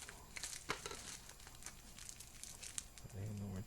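A taped-up mail package is pulled open with steady crinkling and tearing of tape and wrapping, handled close up while someone talks throughout.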